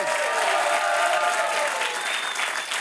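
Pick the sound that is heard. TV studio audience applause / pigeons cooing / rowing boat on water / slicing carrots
TV studio audience applause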